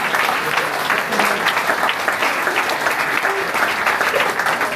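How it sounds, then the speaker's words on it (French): Loud, dense applause from a crowd at a local twinning celebration in Barvaux, continuous and evenly sustained clapping with faint voices underneath. "particulièrement par Antonio, que je vous invite à applaudir"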